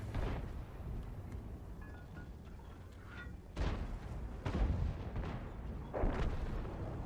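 Tank cannon shots in World of Tanks, several deep booming blasts spaced a few seconds apart over a low rumbling battlefield background, heard at moderate distance.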